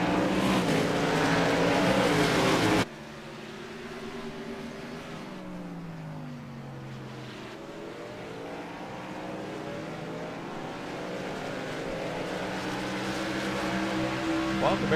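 Race cars run around a track in a four-car pack: a loud engine roar at first, then quieter engines that rise and fall as they pass, with a commentator talking over them.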